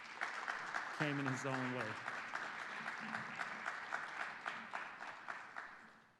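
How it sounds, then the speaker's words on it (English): An audience at a scholarship ceremony breaks into sustained applause, dense clapping filling the room as a speaker's voice briefly carries over it near the start. "if you would give Billy Curl a round of applause"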